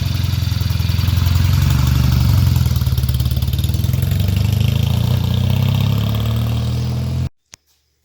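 A restored 1975 Norton Commando Mk3 motorcycle engine idles close by with a steady, throbbing exhaust pulse for about seven seconds, then cuts off abruptly, leaving a single faint click in the quiet.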